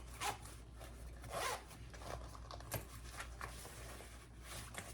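The zipper on a handmade bag's zipper pocket is pulled back and forth in several quick, quiet rasping strokes, heard up close.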